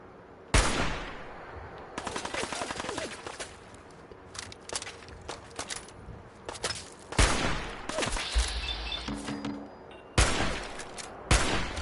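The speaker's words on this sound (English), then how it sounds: "I'm shooting him with a hunting rifle" Hunting rifle shots in the video game Fallout 4 crack out as sharp, loud single reports spaced a second or more apart, with quieter clatter and game sounds between them.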